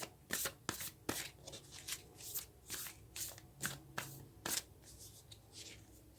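Spirit Animal Oracle cards are shuffled by hand up close, in quick, rhythmic riffling bursts with brief pauses between them, quiet and alone with no talk.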